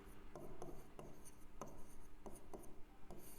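Chalk or marker strokes scrape across a classroom board during a Hindi lesson, a series of short rubbing scratches in an irregular writing rhythm, close and moderately loud, with no voices.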